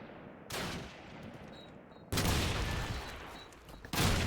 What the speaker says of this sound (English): Dodging scope bullets whizzing over his head.